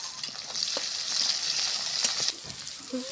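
Cumin, onion, whole garlic and green chilies crackle in hot oil with a bright, busy sizzle and quick stirring strokes, the sizzle easing near the end.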